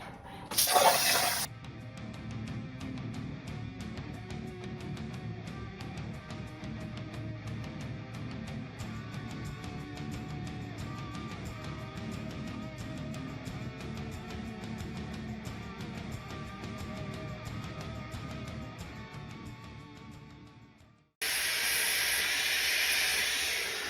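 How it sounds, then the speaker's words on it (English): A plasma table cutting steel strips and parts gives a long, steady roaring hiss that runs unbroken for about twenty seconds, framed by brief louder bursts of air at the start and end. "I'm cutting a lot of my parts with the plasma table right now"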